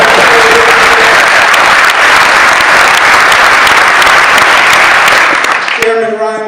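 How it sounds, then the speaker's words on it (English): A large audience at a Cuomo speech breaks into loud, sustained applause, a thick continuous roar of clapping that tapers near the end as a voice resumes talking. "Let's give him a round of applause."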